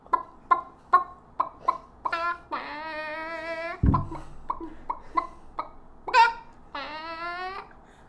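A person vocally imitates a chicken, with a run of short rhythmic clucks building into long drawn-out squawking calls, repeated twice with a cough-like burst between, close and clear.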